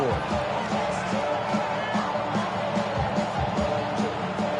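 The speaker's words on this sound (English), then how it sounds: "this crowd trying to force a false start here" In the Madden 26 football game, a stadium crowd roars steadily and loudly throughout, a dense wash of cheering with no breaks.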